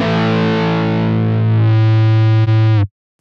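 Guitar feedback from the AcouFiend plugin set to second harmonic, a loud, sustained, distorted tone that holds steady with a brief dip near the end before stopping sharply.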